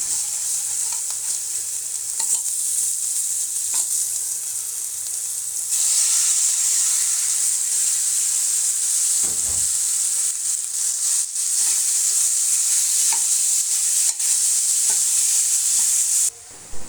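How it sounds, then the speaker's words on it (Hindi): Chicken pieces fry in hot oil with garlic, a loud, close, continuous sizzle that gets stronger partway through, with occasional scraping as the pan is stirred and no talking. "तो लहसुन जो है ना वो फ्राई होता है, तो फिर इसमें हम ना चिकन डाल देंगे।"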